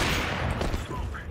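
Rapid bursts of Counter-Strike 2 gunfire crackle in a dense, continuous volley, with a voice talking over the shots.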